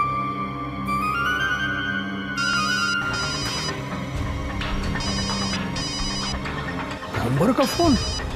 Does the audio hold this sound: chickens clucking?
no